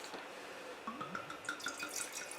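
Water trickles and splashes faintly while a wine glass is rinsed, with soft drips and a brief swirling, tonal wash of liquid inside the glass. It is quiet, close and free of talk.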